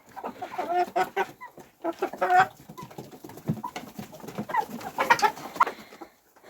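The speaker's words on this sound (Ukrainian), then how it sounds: "Ось так смакують мої мої курчата." Several chickens cluck and chatter softly in short bursts, close by, with quiet pecking in between.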